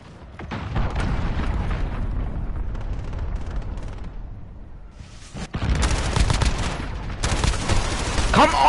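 In Modern Warfare, a cruise missile strike lands amid gunfire, with heavy booms and a long rumbling blast followed by dense bursts of rapid shots, loud and close, under a voice talking.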